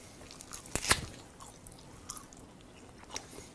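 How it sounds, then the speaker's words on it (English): Someone chews on a raw animal bone up close, with sharp wet crunches and squishy bites at irregular intervals over quiet background, with no talking. "I could sit here and chew on this bone for a good 15-20 minutes"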